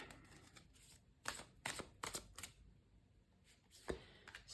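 A few quick bursts of cards riffling and snapping, close and fairly quiet, with short pauses between the shuffles.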